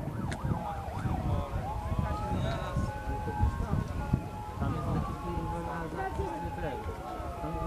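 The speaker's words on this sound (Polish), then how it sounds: "Chyba dwie karetki, ale druga." Two ambulances with wailing sirens driving against traffic during the 2001 Wisła rally, rising and falling tones sweeping past with rough engine and crowd noise while people talk nearby.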